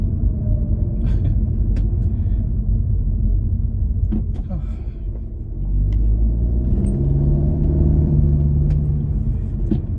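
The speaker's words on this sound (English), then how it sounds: "So I'm in third gear right now, and if I'm driving nicely and gently, it just drives." An Audi A3 with an S3 drivetrain swap cruises gently in third gear, its engine a low steady rumble inside the cabin with a soft swell midway, while someone talks over it.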